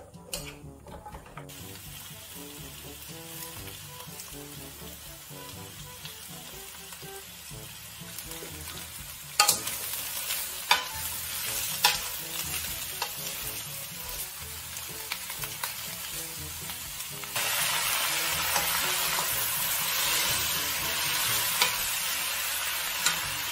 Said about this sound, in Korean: 기름을 부어주고 야채를 먼저 볶아줍니다.